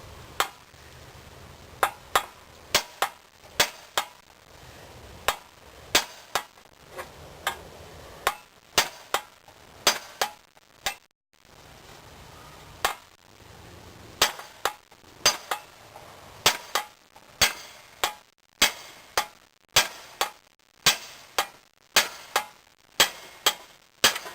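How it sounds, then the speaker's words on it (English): Metal blade of a Husqvarna 600 CRT being beaten with the back of a chisel, sharp ringing clanks in irregular bursts and steady runs throughout, close and fairly loud, with short pauses between strikes. "I'm going to be beating down on the blade"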